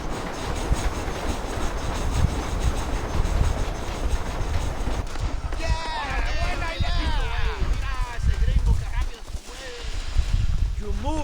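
A train runs along the tracks in a Mexico-set desert shooter video game, a steady rumbling clatter throughout while voices talk over it.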